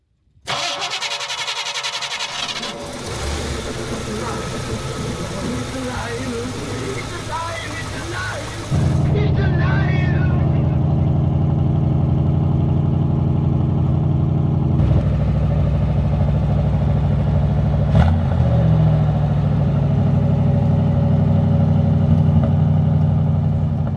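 A restored 1974 Chevrolet El Camino cranks over for several seconds, catches, and settles into a loud, steady, rumbling idle close by, with a few brief shifts in tone.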